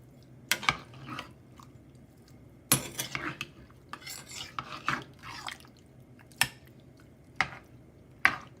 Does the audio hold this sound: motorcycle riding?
no